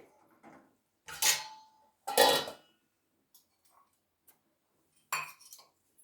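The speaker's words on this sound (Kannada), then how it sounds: "ಈಗ ಒಂದು ಸಣ್ಣ ಬಾಣಲೆಯನ್ನು ತಗೊಳ್ರಿ" A small metal frying pan (kadai) is picked up and handled in a quiet kitchen while dal simmers, giving a few short, sharp metallic clanks and clinks separated by silence.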